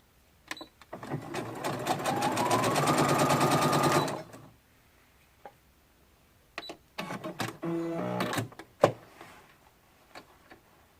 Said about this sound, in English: stitch right here as my basting stitch